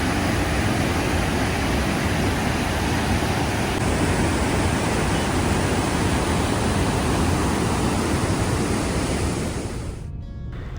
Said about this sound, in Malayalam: അതിപ്പോൾ രാവിലെ ആയപ്പോൾ നല്ല ഒഴുക്കിലാണ് വെള്ളം വരുന്നത്, മുകളിൽ നിന്ന് ഓവർഫ്ലോ ആവുന്നത്.